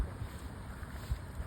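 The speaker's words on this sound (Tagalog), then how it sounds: "Wala nang habagat pero may hangin pa rin dito" Steady wind rushing and buffeting a microphone outdoors, a broad continuous roar with occasional low gusty thumps.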